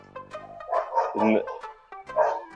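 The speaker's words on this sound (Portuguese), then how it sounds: "agora o Tico tá latindo aí" A small dog barks a few times in quick bursts, mixed with people talking close by.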